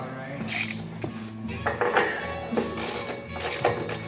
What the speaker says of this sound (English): I've got a little socket set around here.